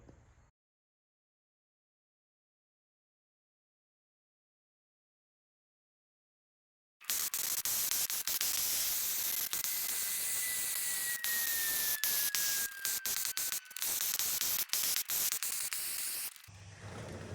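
A power washer sprays a 1978 Suzuki DS100 motorcycle fuel tank, a loud steady hiss of water spray that starts abruptly after several seconds of silence and runs on close by with brief breaks.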